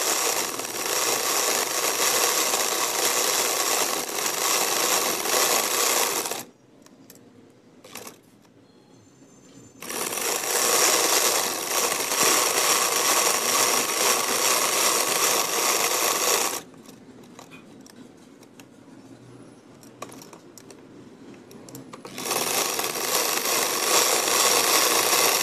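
A sewing machine stitching fabric in long steady runs of dense, continuous mechanical whirring, broken by two quieter pauses before stitching resumes.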